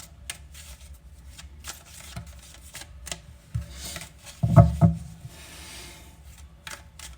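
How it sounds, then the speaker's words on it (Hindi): Tarot cards are shuffled in the hands, giving soft riffling and rubbing with a short, louder flurry of card handling in the middle. No one speaks. "मैं give it a good shuffle first"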